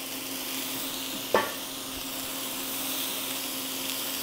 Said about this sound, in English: I'm gonna throw these beans in on top of this trinity of salty Italian stuff.